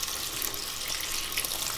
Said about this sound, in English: And just rinse it off.